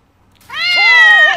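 A single drawn-out cat meow, rising then wavering, loud and close, starting after a brief silence.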